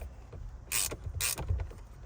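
A ratchet clicks in short bursts, two brief bright rattles close by, while a steering wheel is removed from a Cadillac CTS-V. A quiet low background fills the gaps between them.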